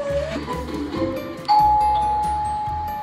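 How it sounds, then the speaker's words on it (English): A doorbell chimes once, a clear ringing tone that lingers and slowly fades, following a few softer clinks and background rustle. "Ringing the doorbell."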